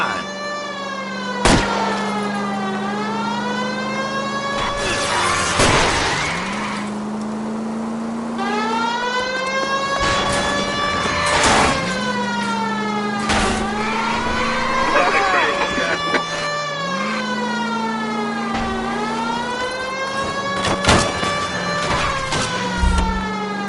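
A car chase in the video game L.A. Noire: a wailing police siren rises and falls over a running engine, broken by several loud crash and impact bangs, with voices speaking at times.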